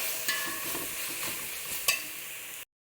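Mutton biryani masala, with meat masala spice added, is stirred as it fries in a pan for Kashmiri-style biryani: a steady close sizzle with repeated scraping strokes of the spoon, one sharper clatter near the end, then sudden silence.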